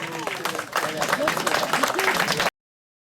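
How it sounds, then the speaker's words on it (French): Applause from an audience at a radio amateurs' gathering, many hands clapping densely and steadily, growing louder after a moment and continuing for a couple of seconds before stopping abruptly. "on peut les applaudir"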